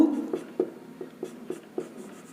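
A pen writes an equation on paper in short scratchy strokes, about six quick taps and scribbles in a loose rhythm, close and quiet with no talking.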